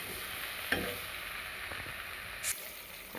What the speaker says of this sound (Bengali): ডিম আর ফুলকপিটা কিন্তু এবার আমি একসাথে কষিয়ে নেব